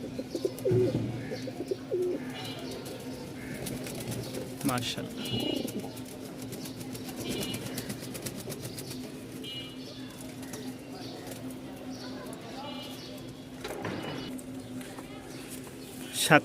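Lahori and Giribaz pigeons coo and murmur nearby in a loft, a steady low hum running beneath intermittent people talking.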